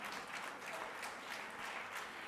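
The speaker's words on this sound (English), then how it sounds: "And a big round of applause for all these wonderful women, please." Sustained audience applause fills a conference session hall, a steady broadband clatter of many hands clapping at an even level with no voices on top.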